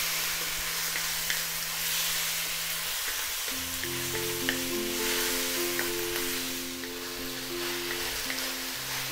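Chicken sautés in a pan with a steady bright sizzle and occasional stirring clinks, while soft background music plays beneath and no one speaks.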